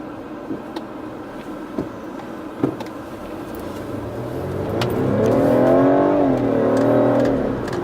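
A BMW car accelerates in traffic. After some faint clicks and road noise, the engine rises loudly into a steady, climbing drone that swells and holds near the end.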